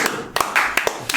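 Several sharp hand claps in quick succession, close and loud, with short uneven gaps between them during a casual discussion.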